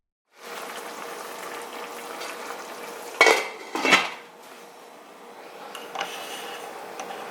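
Rotini pasta stirred in a metal pot, a steady low simmering hiss underneath with two sharp clanks of utensil against pot in the middle, then softer scraping and a faint knock near the end.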